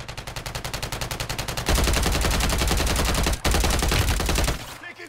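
Automatic gunfire in the video game Warzone: a fast, evenly spaced burst of close, loud shots, then a dense, sustained roar of fire with a brief break before it trails off.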